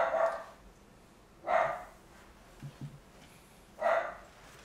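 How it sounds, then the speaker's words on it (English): Indoors, a dog lets out three spaced single barks from a short distance, with a faint thump or two between them and no talking. "I don't know what he's barking at,"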